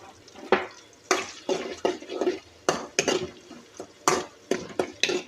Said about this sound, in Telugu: ఒక 2 to 3 మినిట్స్ బాగా వేయించుకోండి.